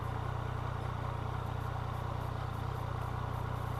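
Yamaha MT-09 (FZ-09) motorcycle engine juddering in first gear with no throttle applied: a steady, fairly faint low rumble that runs unbroken throughout.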